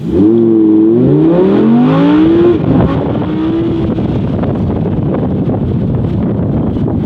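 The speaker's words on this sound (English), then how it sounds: "watch how quickly here the gauges hit 60 during this acceleration here at the dealer's closed off track." A 2017 Audi R8 accelerating hard to 60 on a closed dealer track, engine pitch rising through quick gear shifts over about three seconds, then a lower steady drone buried in heavy wind rush.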